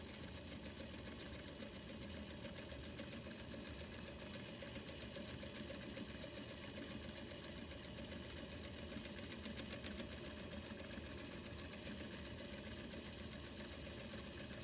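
A Juki industrial sewing machine runs steadily, stitching through fabric with a continuous fast mechanical whir and rattle that holds at an even level throughout, with no talking.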